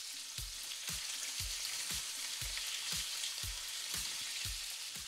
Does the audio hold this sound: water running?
no